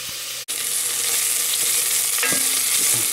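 Onions caramelize in a pan for linguine with mussels, hissing in a loud, continuous fry. A sharp knock and a brief dip come early, then occasional stirring scrapes sound under the sizzle.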